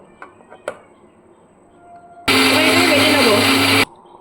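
A blender grinding coriander and tomato into a spice paste in one loud, steady roaring burst of about one and a half seconds, preceded by a few soft clicks and handling noises.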